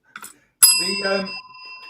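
A bicycle bell rings once, bright and close, its metallic tone ringing on and fading, with a short rustle just before.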